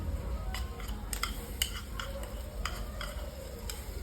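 A spatula repeatedly scraping and clinking against a pan over a soft, steady sizzle of onions frying until lightly browned, stirring strokes spaced irregularly.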